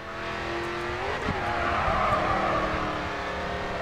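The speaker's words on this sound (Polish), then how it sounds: "Na następnym zakręcie wejdź w drift." A car drifts through a bend in the racing game GRID 2, its engine pitch sweeping as the tires screech and skid continuously, loud and close throughout.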